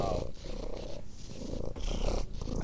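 A cat in the video game Minecraft purrs steadily and loudly for a few seconds, a close, continuous rumbling with no pauses and no talk over it.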